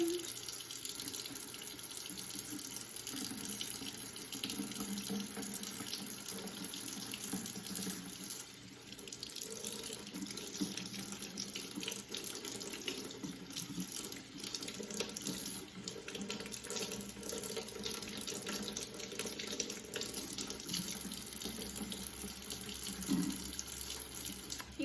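Tap water runs steadily into a sink while makeup brushes are rinsed with dish soap, a continuous close hiss and splash lasting the whole stretch with slight shifts in tone as the brushes move under the stream.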